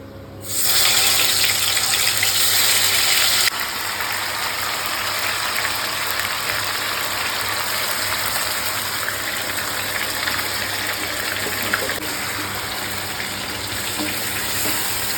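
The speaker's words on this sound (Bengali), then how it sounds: "এই যে আমাদের ম্যারিনেট করা মাংস এবার এই তেলের মধ্যে ছাড়া হবে, যেই তেলে আমরা বেরেস্তা করলাম।" Marinated chicken dropped into hot oil in which onions were just fried for a korma, giving a loud, steady, broadband hiss that surges at first and then settles into continuous close sizzling with no talking.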